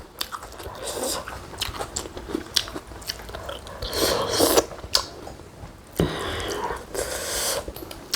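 Chewing and crunching chicken bones from a glass noodle soup, heard as close, loud, irregular bites and crunches in a steady rhythm with brief pauses.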